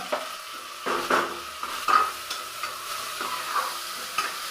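Tomatoes and chopped vegetables sizzle and hiss in a hot pan while a utensil stirs and scrapes, with a few clattering strokes over a steady crackle.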